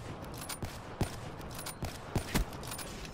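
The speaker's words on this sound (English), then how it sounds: "I'm about to shoot Meaty with his own sniper." Scattered gunshots in a multiplayer shooter match, a series of sharp separate cracks with a few spaced louder shots, fairly faint under game ambience.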